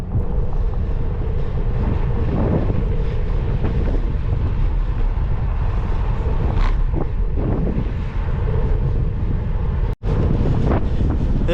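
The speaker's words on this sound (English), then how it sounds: "Winds are like 18 something miles an hour" Strong wind of about 18 mph buffets the microphone of a cyclist out bikepacking, a loud unbroken roar with gusty swells and a brief dropout near the end.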